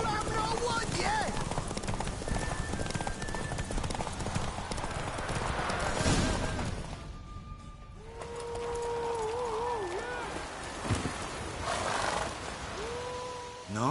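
A horse gallops in a race in the video game Witcher 3, steady clip-clop hoofbeats under ongoing character dialogue and game sounds, with a brief quieter stretch midway.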